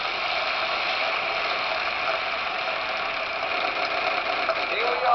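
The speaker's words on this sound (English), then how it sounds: "To spin the wheel, press and hold the B button." Wheel spinning in a Wheel of Fortune video game, a steady mechanical ratcheting clatter of pegs against the pointer, fairly loud and continuous over a game music bed.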